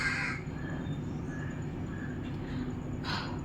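Crows caw outdoors in Kerala, a few brief calls rising over a steady low background hum, fairly faint and at some distance.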